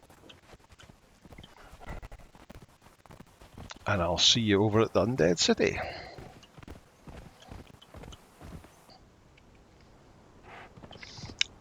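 A horse's hooves clip-clop in Conan Exiles, a run of quick hoofbeats with a whinny-like burst in the middle, mostly under someone talking.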